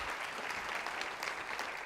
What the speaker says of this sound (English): Round of applause for my wife because she's going to watch this.